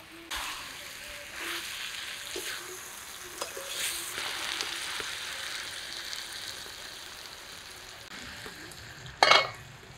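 Spiced young jackfruit cooks in a karahi as mutton fat is added on top, a soft steady sizzle with a few faint utensil taps, ending in a brief sharp louder clatter near the close.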